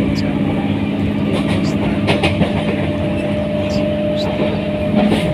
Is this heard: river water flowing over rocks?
no